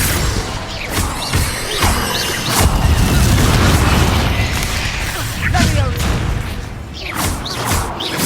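Confringo spell explosions in the Hogwarts Legacy video game: a dense run of booming, crashing magical blasts, loud and continuous, with sharp cracks layered over a heavy low rumble.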